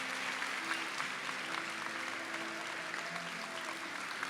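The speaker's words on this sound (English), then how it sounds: "So let's give them a round of applause before we pick the top winners." Steady applause from an audience at an awards ceremony honoring essay contest winners, a continuous wash of clapping held at an even level throughout without a break.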